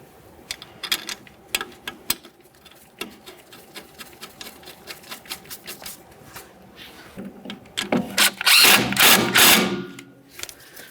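A Ford Fusion brake hose mounting bolt being started and snugged up, close mechanical clicks and taps in an irregular rhythm, then a louder burst of rattling metal near the end.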